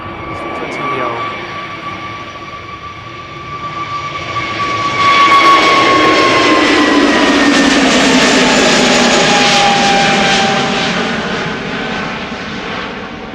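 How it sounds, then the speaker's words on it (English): An Airbus A320neo jet takes off at Amsterdam Schiphol Airport. Its engine roar swells sharply near the midpoint into a loud, sustained rush with steady whining tones, then eases slightly toward the end. "A320neo."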